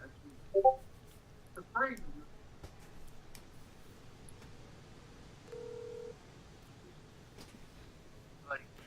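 Telephone call being placed in an online SCUM game session, with a single steady dial tone lasting about half a second amid faint background noise and brief speech sounds before and after.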